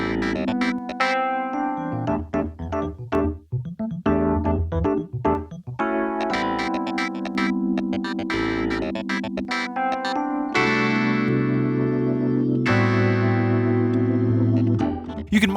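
A music track processed with a smart:EQ 3 Smart Filter plays continuously with sustained tonal chords and shifting notes, heavy with effects and reverb.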